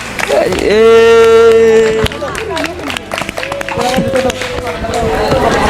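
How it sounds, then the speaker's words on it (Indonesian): Audience applause at a university teacher-training class presentation, a dense steady patter of clapping from a room of people under a loud sustained tone and voices, continuing throughout. "Tepuk tangan buat semua ya."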